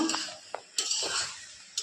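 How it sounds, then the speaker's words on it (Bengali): A potato and vegetable fry is stirred in a pan, with a few sharp metallic clinks and scrapes of the utensil against the pan and quiet gaps between strokes. "আমরা এখন ভাজা নাড়াতে নেব।"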